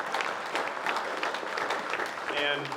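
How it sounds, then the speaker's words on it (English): Applause from the audience at a public meeting, a dense, fairly loud burst of clapping that fills the short stretch, with a brief voice-like tone near the end. "round of applause for Scott."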